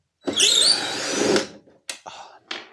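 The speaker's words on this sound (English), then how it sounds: "The only thing we can do is start there and just get going" A cordless drill whirs loudly for just over a second while working on a Sprinter van bulkhead, then stops, followed by a few short clicks and brief bursts of handling noise.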